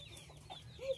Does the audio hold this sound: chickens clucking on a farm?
yes